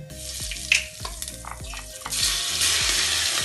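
Asafoetida dropped into hot oil in a pan, a few sharp clinks and taps of the spoon giving way to a rising, steady sizzle that fills the second half, close and fairly loud.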